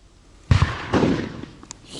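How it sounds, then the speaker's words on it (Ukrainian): Two loud gunshots ring out a moment apart at a fishing spot, each trailing into an outdoor echo, followed by a small click. "Хто то стріляє так?"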